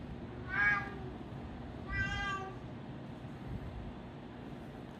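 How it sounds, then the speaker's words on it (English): Cats meow twice in the background indoors, two distinct, drawn-out calls about a second and a half apart, moderately faint over a quiet room hum. "You might be able to hear my cats in my background."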